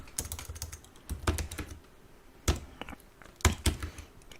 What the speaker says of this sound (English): Now I'm gonna type